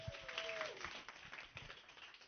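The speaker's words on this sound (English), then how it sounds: "Can we please give Trisha the biggest round of applause?" Audience applause for a speaker at the Davos Ignite Talks 2025, a faint, distant patter of clapping with a brief whoop-like tone near the start.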